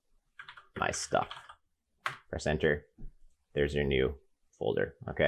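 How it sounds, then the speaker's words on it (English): Computer keyboard typing while naming a new folder during basic file management, quick key clicks between and under a person's nearby speech. "I can actually just start typing right now."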